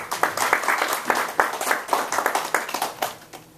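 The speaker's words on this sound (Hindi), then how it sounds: "तालियां बजा के ग्रहण करिए।" Audience applause at a Hindi comic poetry recital in Ann Arbor, Michigan: a sustained round of clapping from a modest crowd, steady and fairly close, with individual claps distinct throughout.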